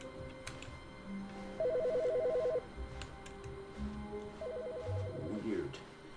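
A telephone rings in The Stanley Parable video game, two separate bursts of a trilling electronic ring over a low ambient hum, with a person talking in the clip.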